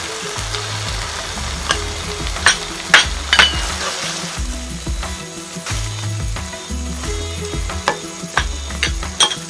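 Boiled mung beans are stirred into a pot of dal makhani with a spoon, which scrapes and knocks rhythmically against the pot over a steady low sizzle and a few sharp clinks, with no talking.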